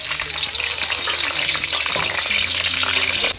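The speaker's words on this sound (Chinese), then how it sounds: "锅里倒点油，油红下入鲜花椒" Fresh Sichuan peppercorns fry in hot oil in a wok, giving a loud, steady, close sizzle and crackle that runs the whole time with no voices.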